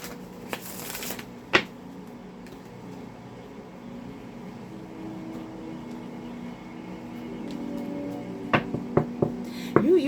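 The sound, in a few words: shuffling Inner Garden Oracle cards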